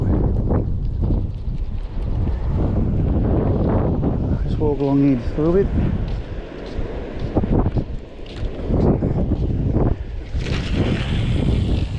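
Wind buffets the microphone in a steady low roar throughout while a person talks over it.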